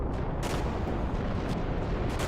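An explosion rumbles in the Final Fantasy 2 game as a dense, continuous roar with a few sharper bursts, loud and unbroken with no talking.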